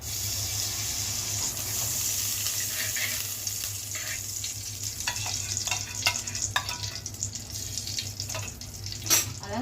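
Ghee and oil heating in a hot kadai, giving a soft steady sizzle with a low hum underneath and occasional light clinks and crackles near the end.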